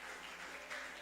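A church congregation claps during a worship service. The applause is faint and distant, a short steady patter of many hands.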